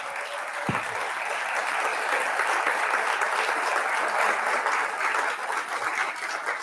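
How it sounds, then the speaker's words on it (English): At a volunteer gala dinner, the audience gives the culinary staff a big round of applause: sustained, even clapping from a roomful of guests, with a single sharp knock near the start. "let's give them a big, huge round of applause as well"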